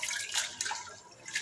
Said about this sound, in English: So this step, I wash rice.